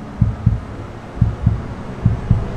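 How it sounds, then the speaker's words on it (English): A simulated heartbeat plays inside the Mercedes AVTR concept car: six low, soft thumps arrive in three double-beat pairs, each a lub-dub, with a steady rhythm over a quiet background hum. "You hear that? Little heartbeat."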